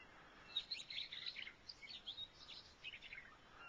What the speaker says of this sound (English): you can hear the birds in the background who are very lively